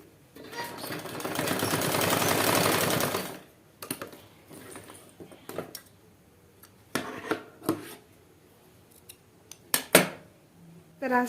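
A sewing machine runs in one steady burst, stitching a belt for an Afghani salwar, then stops, followed by scattered clicks, taps and fabric handling nearby.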